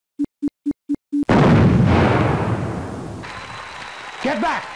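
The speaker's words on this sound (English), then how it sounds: "Cart bomb activated." Five short evenly spaced beeps lead into a loud, sudden explosion from a cart bomb in The Journeyman Project, a 1994 PC game. A long roar follows and fades out slowly, and a voice rises near the end.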